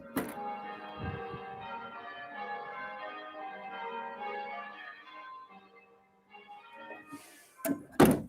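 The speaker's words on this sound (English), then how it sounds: "They're celebrating by ringing the bells." Celebratory church bells ringing at a distance, heard through a window as a sustained, faint metallic tone for several seconds, followed by a few close knocks and thumps.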